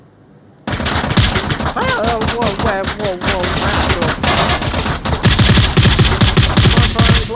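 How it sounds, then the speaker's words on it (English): Rapid automatic gunfire from blind firing over cover in the VR shooter Onward, loud and close, with sustained bursts running almost continuously and growing heavier near the end, while a player speaks briefly over it. "blind firing, it works."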